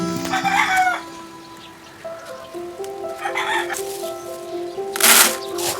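Roosters crow in drawn-out calls over scattered nearby clucking, with a sharp flutter or squawk burst toward the end.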